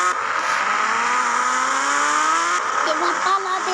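A motorbike engine in the video game Indian Bike Driving 3D hums with a steady, slowly rising whine as it drives; voices talk over it.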